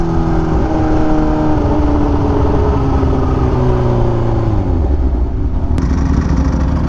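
A supercharged Kawasaki Ninja H2 motorcycle pulls hard, its engine note climbing steadily through the gears in a loud, close, sustained roar with rising harmonic whine.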